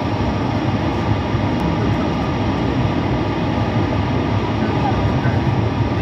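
Steady rumble of a train running from Lisbon toward Lagos, a dense, continuous low-frequency roar and rattle that stays loud and even throughout with no clear breaks.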